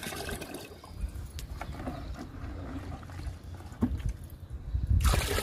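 Liquid plant fertilizer is poured into a bucket, a wet, splashing trickle broken by occasional clunks and knocks of the container, growing heavier near the end.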